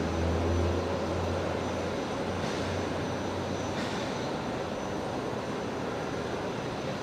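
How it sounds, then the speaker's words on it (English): A Lynden Air Cargo L100, the civil Hercules, sits on the ground at Brisbane Airport, its turboprop engines giving a steady droning roar with a low throbbing hum that fades slightly partway through. "It's Lynden Air Cargo, the Herc here today. It's a civil Herc, the L100."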